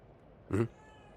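A cat in the video game The Evil Within 2 gives a single short meow, clear but soft against a quiet game background.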